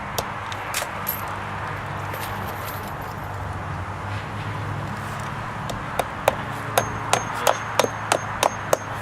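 Hammer blows drive nails into wall studs during a house rehab job, a steady series of sharp, evenly spaced strikes ringing out near the end over a low background hum.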